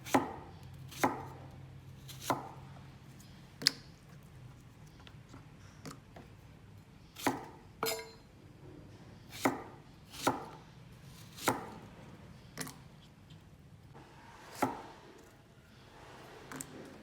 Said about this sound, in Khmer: ខ្ញុំចាប់ផ្ដើមហាន់ការ៉ុតបងប្អូនហាន់ជាសរសៃស្មើឆ្មាទូច